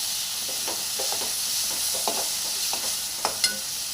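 Ginger-garlic paste for a chicken and poppy seed curry sizzles in a pan with a steady frying hiss, while a spoon scrapes and stirs in soft, irregular strokes with a few sharper knocks near the end.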